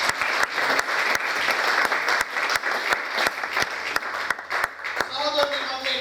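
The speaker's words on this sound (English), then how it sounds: "Shall we clap our hands?" A church congregation claps hands in a rhythmic, steady beat during a sermon, sharp evenly spaced claps over a wash of crowd noise, with a voice and a brief melodic tone near the end.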